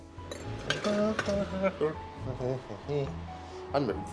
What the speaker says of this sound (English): I'm going to chuck these in the oven